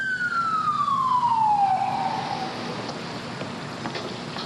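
A police car siren wails during the 1992 Los Angeles riot at night, a loud, close sweep sliding steadily downward in pitch and then trailing off amid the street noise.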